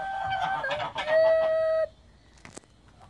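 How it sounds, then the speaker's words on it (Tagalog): Chickens cluck and a rooster crows nearby on a farm in Saudi Arabia, a drawn-out call with a few shorter squawks and rustles afterward. "Ayan, may mga manok sila."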